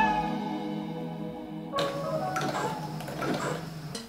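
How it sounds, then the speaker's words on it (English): A sewing machine stitches elastic onto a sweatsuit, starting with a tonal hum before a close, rapid mechanical rattle of stitching takes over and runs steadily to the end. "we're gonna have to stretch it as we sew"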